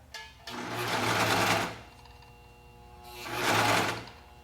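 A serger sewing machine stitches fabric in two bursts. Each is a loud, fast mechanical whir that winds up, runs for about a second and stops, with a short quiet gap between them.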